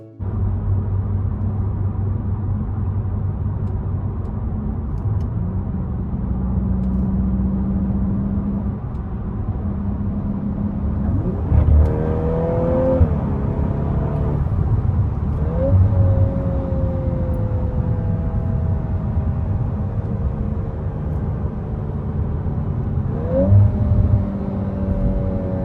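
A Volkswagen Golf 8 R's engine hums and rumbles steadily in R mode, with several rising revs and gear changes heard up close from inside the car, continuous and fairly loud, with no talking.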